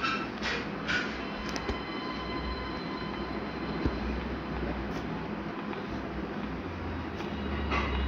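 A train rolls in within the Granny Chapter 2 video game, a steady broadband rumble and clatter with a few sharp metallic clicks, continuous and moderately loud with no talking.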